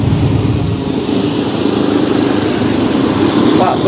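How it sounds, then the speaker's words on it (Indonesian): Car engine idling nearby outdoors on a street, a continuous low rumble that stays steady throughout, with background voices and street activity over it. "Oh, di sini ada mobil."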